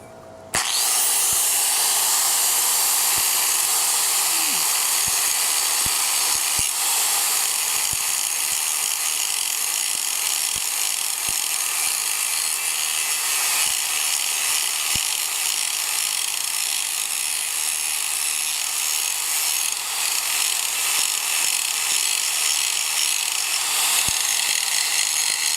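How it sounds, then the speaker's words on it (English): A Bahco axe being ground down where a plastic hanger broke off: a steady, loud, harsh grinding hiss runs almost unbroken from start to finish. "So anyway, I just broke it off, so now I'm going to grind all this, make that look better."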